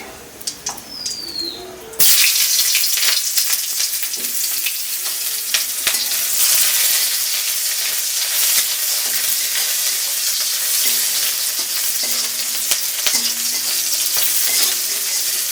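Raw onions hit a hot pan and fry loudly, a sudden burst into continuous sizzling with occasional stirring clinks; before it, a quiet room with faint bird calls.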